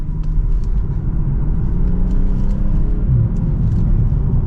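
A 2024 BMW M340i xDrive with its turbocharged B58 engine on a test drive, a steady loud low cabin rumble and drone of engine and road noise with no talking.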